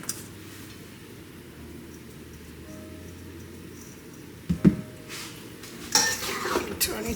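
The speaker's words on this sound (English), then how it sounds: "stir it a little bit. Get it all masala down into it." A spoon scrapes and clinks around a pot of oxtail and masala, soft sizzling beneath, with sharper metallic knocks and scraping bursts toward the end.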